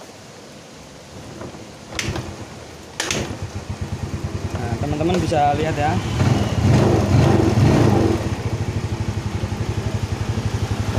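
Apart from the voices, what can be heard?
Yamaha Mio Sporty motorcycle engine started and running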